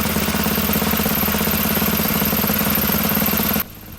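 A small engine runs at a steady, loud chugging idle during its break-in procedure, then abruptly cuts out near the end, leaving quiet.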